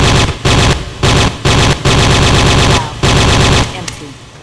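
Rapid automatic gunfire from weapons in the first-person shooter Trespasser, loud and close, in several sustained bursts separated by short pauses.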